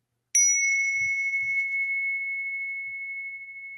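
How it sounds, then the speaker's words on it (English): A tiny bell gives a single clear, bright ding that rings on with a long pure sustained tone, close and fairly loud, alone apart from a few faint low thumps. "Even the smallest, tiniest, like a little baby bell would work."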